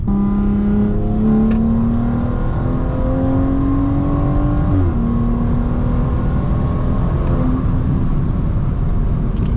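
A BMW F30 340i engine revs hard and climbs steadily in pitch through the gears, with a quick shift drop midway, loud and close from inside the cabin.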